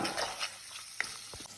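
Onions frying in oil in a pan, a brief close sizzle with a few stirring scrapes and light clicks.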